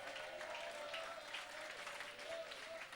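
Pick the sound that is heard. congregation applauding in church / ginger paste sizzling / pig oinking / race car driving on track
congregation applauding in church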